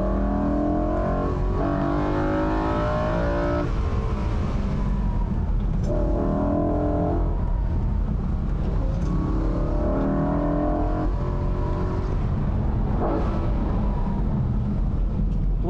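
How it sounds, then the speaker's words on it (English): A 2008 BMW M3 E93 driven hard on a mountain road, its engine rising through the revs and dropping with throttle blips on downshifts, loud and continuous from inside the car with no talk. "Boy, I really like how the car blips the throttle on downshift."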